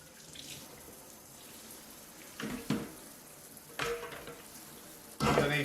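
Cold tap running over tomato seeds in a kitchen sink, a steady watery hiss with a few sharper splashes and clatters as the seeds are rinsed.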